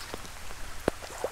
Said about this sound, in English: it's starting to rain a lot